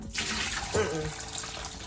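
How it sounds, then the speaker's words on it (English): Tap water runs steadily into a kitchen sink as raw chicken thighs are rinsed under it, a close hissing splash with a brief change in the flow partway through. "Chicken thighs are just amazing because they're so juicy. I'm gonna rinse them off."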